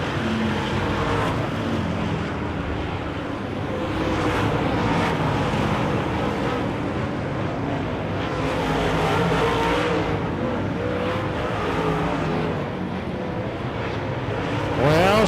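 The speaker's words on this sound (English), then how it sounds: "Shane Holden in the 11 car comes around to take the white flag" Wissota late model race cars roar around a dirt speedway on the final lap: a loud, continuous engine drone that swells and fades slightly as the pack passes, with no talking.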